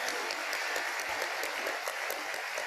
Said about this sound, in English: a round of applause for teachers and students